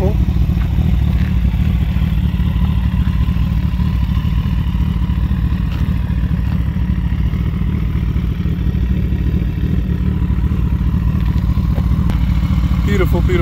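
A 2012 Kawasaki ZX-14R sport bike fitted with a Brocks exhaust idles steadily and loud nearby, a deep continuous burble with faint mechanical clatter throughout.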